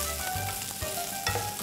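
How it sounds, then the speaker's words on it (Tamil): Garlic, ginger, large onion pieces and half a green capsicum sauté in hot oil in a pan for fried rice, giving a steady close sizzle with a few stirring scrapes and no talk. "பெரிய துண்டுகளாக நறுக்கின வெங்காயம் ஒன்று, பாதி பச்சை குடமிளகாய் போட்டு 5 நிமிஷம் வதக்குங்க"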